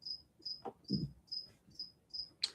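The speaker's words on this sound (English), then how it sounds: "now you're going to have to deal with a cricket in the background making a bunch of noise" A single cricket chirps in the background in regular short pulses, faint but steady, with a few soft handling knocks from the room in between.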